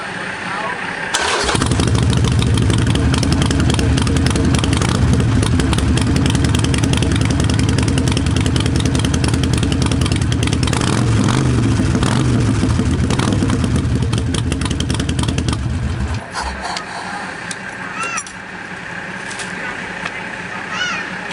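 A Harley-Davidson Sportster 883 Iron motorcycle engine idles loudly and steadily close by for about fifteen seconds, then cuts out, leaving quieter background sound; a voice is briefly audible.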